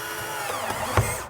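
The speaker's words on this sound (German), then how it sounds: "wir schrauben jetzt zuerst die Unterkonstruktion an die Decke" Power drill driving screws through spruce battens into a camper van ceiling, a short close whir with a sharp knock near the end before it cuts off.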